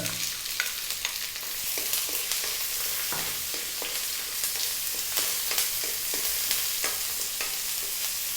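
Garlic, ginger and onion sauté in a hot pan with a continuous bright sizzle and crackle, broken by occasional scraping stir strokes, close and steady with no talking.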